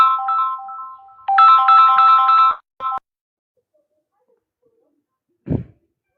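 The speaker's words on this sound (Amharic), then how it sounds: "ይቅርታ ስልክ ገባብኝ።" A mobile phone ringtone plays a melodic electronic tune in two bursts, then a short chirp, before it cuts off; a brief low thump follows after a pause.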